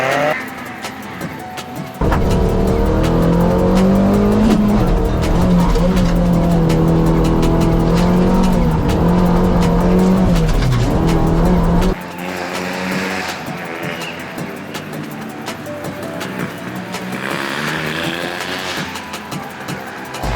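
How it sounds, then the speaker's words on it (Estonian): Cross kart on a rally sprint reconnaissance lap at Tallinn Song Festival Grounds, its engine bursting in loud and revving hard with shifting pitch for about ten seconds, then dropping to a quieter, steadier running drone. "Nüüd hakkab tutvumisring, kus saab teada, kuidas rada toimib täpselt ja saab auto üle kontrollida."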